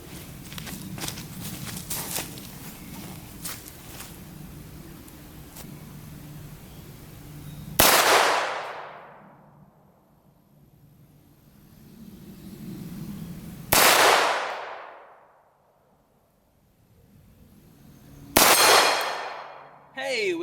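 Three sharp 9mm pistol shots, widely spaced, each cracking loudly and ringing out, fired at a steel target plate about 45 yards off, with outdoor rustling and footsteps between.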